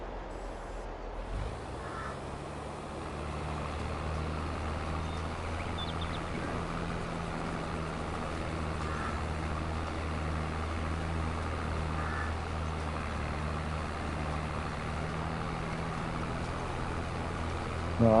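A farm vehicle engine in Farming Simulator 22 starts up and settles into a steady, low, continuous rumbling drone that holds evenly for the whole stretch, with no talking.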